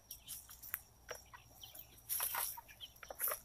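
Red Ranger broiler chickens at day 44 cluck and chirp in scattered bursts, moderately close, with a denser flurry of calls midway through and no talk.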